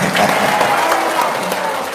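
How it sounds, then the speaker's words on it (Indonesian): Dense crowd clapping fills a Maulid Nabi religious gathering, steady and fairly loud, with a few voices rising faintly through the applause. "Sekali lagi dong tepuk tangannya."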